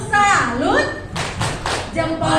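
Kindergarten children at an Indonesian state school chant while clapping a salute routine. Several loud, roughly unison clap bursts mix with their sung voices, up close.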